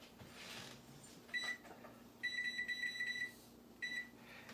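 A kitchen oven beeps while being set to preheat to 375 degrees: a short beep, then a longer string of rapid electronic beeps, then another brief burst, all clear over a quiet room hum.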